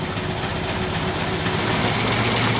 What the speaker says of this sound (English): we'll let the engine run for a little bit